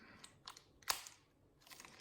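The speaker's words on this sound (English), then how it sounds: "I use my teeth. It's probably not healthy to use your teeth to open those bags" Plastic packaging from a Lego Ninjago set is torn open with teeth, giving faint crinkles and one sharp crackling rip in the middle, followed by softer rustling. The sound is quiet and close.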